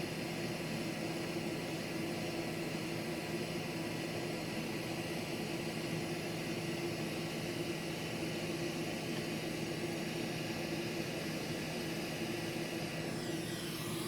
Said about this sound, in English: That's a look at the Quick 861 Pro, and I do like this hot air station very much.